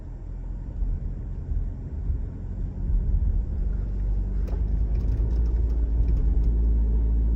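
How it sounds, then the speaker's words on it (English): A Jeep Grand Cherokee 4xe with its gas engine running while it climbs a steep snowy hill, a steady low rumble that rises slightly in intensity partway through, heard from inside the vehicle. "And now the gas engine turned on."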